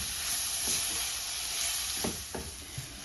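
Grated carrots sizzle in a pan as they are stirred while cooking carrot and semolina halwa. A steady frying hiss runs throughout, with a few soft scraping strokes of the spoon and no talking.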